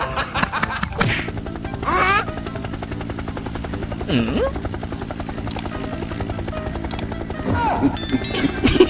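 A steady, rapid mechanical whir like helicopter blades runs throughout, with brief knocks and a short murmured voice over it.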